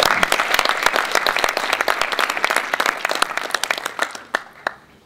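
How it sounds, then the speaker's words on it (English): Applause from an open house audience honoring the Yeshiva Hatid board members: a burst of dense clapping that gradually thins and fades to a few scattered claps at the end. "Everyone give them a huge round of applause."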